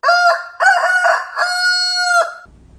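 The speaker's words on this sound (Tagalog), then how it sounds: "Tumilaok ang tandang" A magical rooster from a Filipino folk tale crows loudly and close in three long drawn-out calls, each held and falling away, followed by a moment of quiet.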